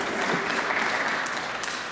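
An audience applauds at a university nursing pinning ceremony, a dense, steady burst of many hands clapping together throughout, filling the room without any speech over it.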